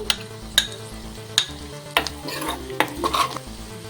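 Green chili and turmeric stir and sizzle in a frying pan, a steady hot crackle broken by several sharp spoon scrapes and clinks against the metal, close and alone with no talk.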